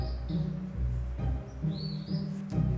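Small birds chirp in short, bright tweets over a steady low hum, the calls coming in brief bursts a few times across the stretch, moderately close but soft.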